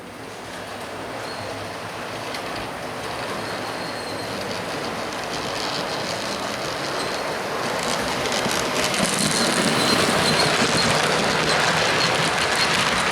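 A repaired model steam locomotive runs along its track with a continuous rolling rumble and faint wheel squeal, growing gradually louder and nearer, without any voices.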